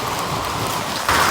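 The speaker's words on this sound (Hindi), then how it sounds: "ओह आओ, हाथ में आओ ओले, कैसे गिर रहे हैं" Hailstones fall in a dense, steady patter, a continuous hiss of close impacts that swells slightly louder toward the end, with no voices.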